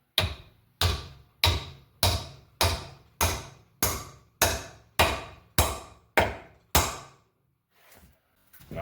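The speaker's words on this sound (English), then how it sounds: "I'm going to use my handy dandy chunk of wood for a mallet" A chunk of wood used as a mallet strikes a wedge into an axe handle, giving eleven sharp, evenly spaced knocks with short decays. A fainter sound follows after a pause.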